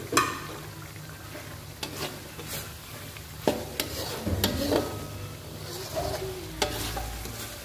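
Turmeric, bay leaves, lime leaves and lemongrass sauté in oil for a Padang-style gulai cincang, a close sizzle broken by scraping spoon strokes and small utensil knocks against the pan.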